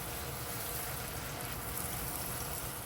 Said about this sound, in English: Mix that in well and let this saute down on low and slow heat.